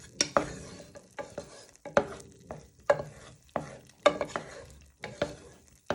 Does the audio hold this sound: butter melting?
yes